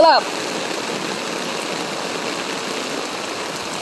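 Floodwater rushes steadily through a flooded area in Palaris, a constant broadband wash of flowing water after a brief voice at the very start.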